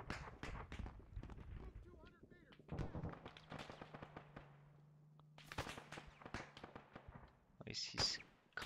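An artillery gun firing in a video game battle, several loud booming blasts and crackling impacts, with a sustained low hum between the bursts.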